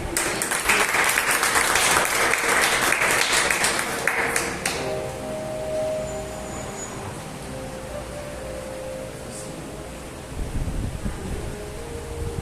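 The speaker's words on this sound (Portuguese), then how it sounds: "com uma salva de palmas" A church congregation bursts into dense, steady applause for the first few seconds, then the clapping thins and fades out as soft instrumental tones carry on underneath.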